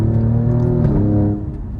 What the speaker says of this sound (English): you still get those amazing raw V6 sounds that this car makes